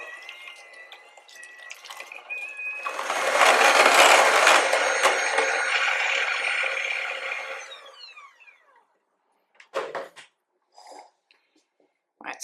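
An electric mixer beats Queen Cakes batter with a rising, whirring buzz that swells loudly for several seconds and then winds down, followed by a few short clattering scrapes against the bowl.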